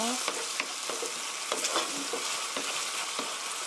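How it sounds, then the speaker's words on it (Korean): Orange chicken sauce with ketchup and brown rice vinegar being stir-fried: loud, continuous hissing sizzle broken by quick, repeated spatula scrapes across the pan, close up and without voices. "케찹의 신맛이 좀 날아가게 볶아주세요"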